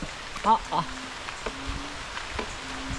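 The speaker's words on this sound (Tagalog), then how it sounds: "At yan ang ulan po." Rain falls as a soft, steady hiss outdoors, with brief voices and a few faint tonal calls over it.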